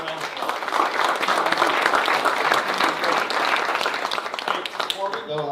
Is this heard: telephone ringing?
no